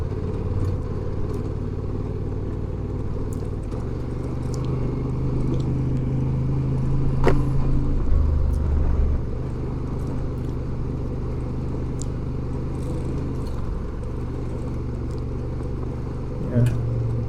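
A Honda Transalp motorcycle rides a washboard gravel road near Cascabel, with a steady low engine drone and road rumble, scattered rattles and clatter from the rough surface, and a brief louder surge midway.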